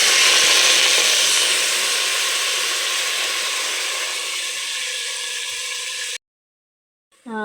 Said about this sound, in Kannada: ಮೊಳಕೆ ಕಾಳನ್ನು ನಾನು ಎಣ್ಣೆಯಲ್ಲಿ ಫ್ರೈ ಮಾಡಕ್ಕೆ ಹಾಕಿದ್ದೀನಿ. ಫ್ರೈ ಆಗ್ತಾಯಿದೆ.